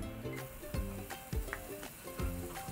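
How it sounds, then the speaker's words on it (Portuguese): Onion and garlic fry gently in ghee in a pan for black rice with leeks, a quiet, even sizzle with faint crackles. "Vou deixar fritar esse alho aqui na minha manteiga."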